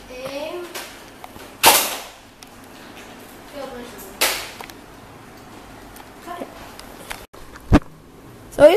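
A NERF N-Strike Elite Mega Centurion foam blaster fires at a target range, two sharp pops with a whoosh some seconds apart plus a brief snap near the end, amid quiet room noise and scattered talk.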